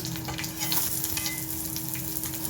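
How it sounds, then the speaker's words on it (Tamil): Ginger and green chillies fry in hot oil in a pan while making curd rice, giving a loud, steady crackling sizzle with dense, continuous spitting that lasts throughout, with no talking. "அப்புறமா ஒரு 2 பச்சை மிளகாய் அதையும் இப்போ அதில் சேர்த்துடலாம். இது நல்லா பொரியட்டும்."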